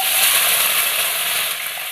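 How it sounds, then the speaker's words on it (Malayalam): Whole peeled small shallots, uncut, drop into hot oil with mustard seeds and fry with a loud, dense, steady sizzle that eases slightly toward the end. "കട്ട് ചെയ്തിട്ടൊന്നുമില്ല, അങ്ങനെ തന്നെ ഇട്ട് കൊടുക്കാം"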